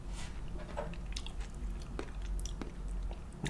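Close, quiet chewing of vegan shrimpless shrimp sushi, soft wet squishes and bites repeating steadily without talk.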